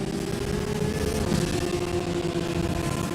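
A BMW race car at Silverstone during a 24-hour endurance race struggles for power, its engine note droning and rising unevenly against the steady roar of other cars on track.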